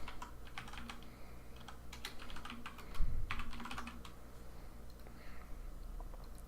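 Code typed on a computer keyboard, a quiet, irregular run of clicking keystrokes in short bursts with a brief thump midway, close and alone without talk.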